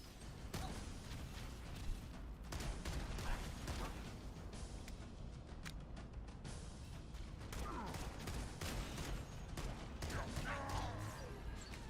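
Handgun fire in Halo: Campaign Evolved amid dense combat noise: rapid sharp shots over a constant roar of battle, with a voice speaking over it.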